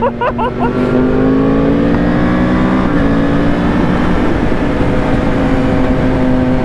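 A loud Yamaha R1 sport motorcycle engine roars steadily up close, its pitch climbing in a sustained rev with rough vibration throughout and no pauses.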